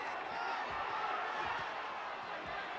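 Arena crowd roaring in support at a WBA world lightweight title boxing bout in Arco Arena, Sacramento, a steady dense wall of cheering and shouting throughout, with scattered thuds beneath.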